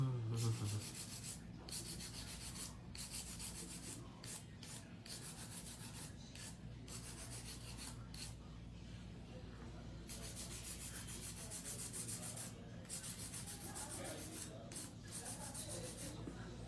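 Faint, rhythmic rasping strokes of a hand file smoothing an acrylic nail, soft scratchy rubs repeating at a steady, close pace over a quiet hum.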